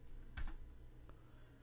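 Keys tapped on a computer keyboard while searching for a program in Windows, a quick cluster of clicks followed by a single later keystroke, close and fairly quiet.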